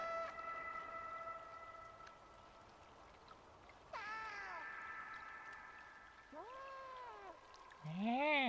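Cat in the video game Stray, separated from its family, letting out a few distinct rising-and-falling meows spaced several seconds apart over a steady ambient game background, the last one louder and closer.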